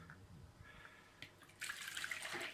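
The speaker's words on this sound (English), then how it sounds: "put the water in the bowl. This is a little lukewarm water." A little lukewarm water poured into a bowl while cleaning a Brinsea Mini II Advance egg incubator: a faint trickle and a few drips at first, then a steady, brighter splashing pour near the end.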